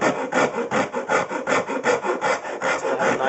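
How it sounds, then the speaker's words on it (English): A hand rasp files and rounds the edges of a wooden cigar box guitar neck, giving steady back-and-forth rasping strokes, close and loud, about three per second. "Basically all I do from this point is just take my rasp and soften those angles"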